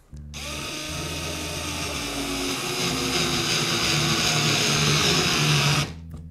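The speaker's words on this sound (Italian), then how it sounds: "vediamo se riusciamo anche in questo caso ad avvitare" A Xiaomi Mijia cordless screwdriver drives a screw into dense chipboard from a kitchen shelf, its motor whirring steadily and close for about five and a half seconds, then cutting off abruptly, with no talking.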